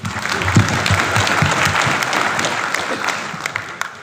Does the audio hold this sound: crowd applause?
yes